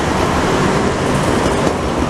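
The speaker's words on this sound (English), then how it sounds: "Look over here so we can get another train going by." A Montreal metro train rumbles past in a tunnel, a loud, steady roar of rolling wheels and rail noise that fills the whole moment without a break.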